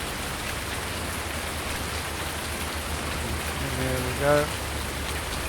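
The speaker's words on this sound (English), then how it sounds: "It probably won't rain for too long." Steady rain hissing over fields in Farming Simulator 19, a continuous wash of broadband noise throughout, with a brief voice and a short tonal swell near the end.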